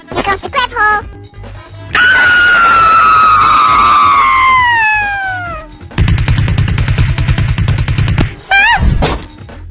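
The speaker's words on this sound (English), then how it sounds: "that's a terrible strong scream right there for me" A loud, drawn-out animated cartoon scream slides downward in pitch, framed by short cries and a burst of rapid buzzing clatter.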